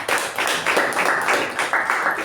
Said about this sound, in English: let's give a round of applause to the evaluator